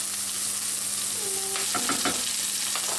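Vegetables frying in a hot pan for a wild pork leg pot roast, a steady loud sizzle throughout with a few scraping stirs and a faint background hum.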